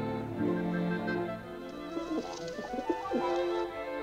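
Soft, low cooing calls from a dove repeat in a loose rhythm, fairly close, over a steady background hum.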